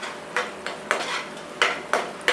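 A spoon stirs chilli chicken with black pepper in a pan, making about six sharp scraping and clinking strokes in an irregular rhythm over a soft sizzle.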